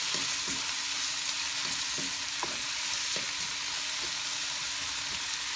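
Tomatoes sizzle and fry steadily in a hot pan for a milkfish and tofu dish, with occasional soft stirring taps; close, continuous and fairly loud, no talking.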